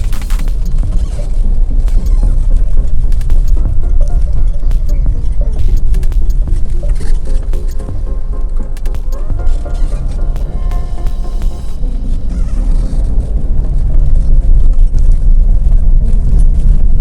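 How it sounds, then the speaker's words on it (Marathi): Car cabin on the Mumbai–Goa highway: a loud, continuous low road rumble and engine drone over the whole stretch, with faint talk in the background. "गाडीचा आवाज येतो कुळकुळ्यासारखा."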